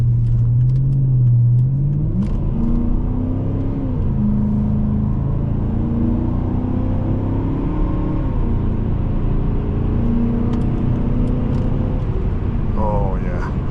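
A 2010 Volvo S80 V8 AWD accelerating on the road, its engine note rising in steady pulls with rumbling road noise underneath, while someone talks over it throughout.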